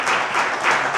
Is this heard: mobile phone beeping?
no